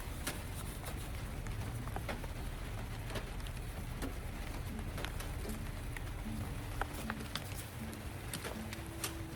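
Dill seeds sprinkled by hand onto home garden soil give a soft, continuous pattering and crackling like light rain, with scattered sharper ticks throughout and no talking.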